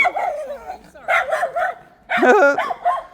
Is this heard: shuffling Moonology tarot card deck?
no